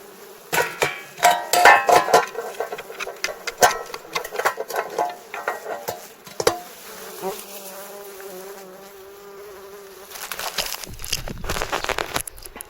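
Honey bees buzz around a wild hive in a field, a close droning hum that rises and falls. Sharp knocks and handling noises break in, then the buzzing grows louder toward the end.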